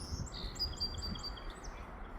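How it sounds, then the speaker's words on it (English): Birds in a spring garden give quick, high chirps and short trills, several calls in succession, fairly faint and distant over a low background hum, with no talking. "You hear those birds? Aren't they pretty?"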